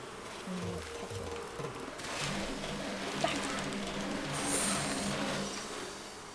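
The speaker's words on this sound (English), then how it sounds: "Or maybe I could catch the bees." A steady insect-like buzz of bees hums throughout in the video game Animal Crossing New Horizons, over a continuous soft background with no talking.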